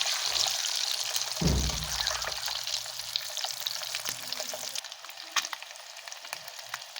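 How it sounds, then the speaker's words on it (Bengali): Eggs frying in a pan hiss with a steady, close sizzle throughout, with a brief louder burst early on and small crackles over the continuous frying. "ডিম ভাজা মোটামুটি হয়ে গেছে, আর একটু বাকি।"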